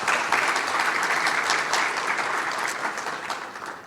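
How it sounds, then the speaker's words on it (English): An audience at a graduation and high-achiever awards ceremony applauds the parents, a dense, sustained round of clapping that holds steady for about four seconds and then begins to thin. "So a really big round of applause for all the parents as well."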